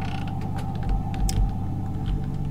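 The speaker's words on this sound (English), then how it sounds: "The door opened." A door creaks open in a horror video game, a steady, drawn-out groaning creak with low mechanical rumbling beneath it.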